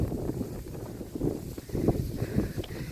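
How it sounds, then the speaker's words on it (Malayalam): Wind blowing across an open roadside on a trip through Masinagudi toward Ooty, a soft continuous buffeting rush with gusty swells. "നല്ല കാറ്റ് വീശുന്നു"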